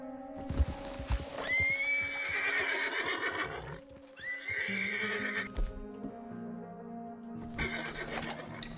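A horse in the Red Dead Redemption 2 video game gives a long, loud whinny and then a second shorter neigh, with snorts and soft hoof clops between them.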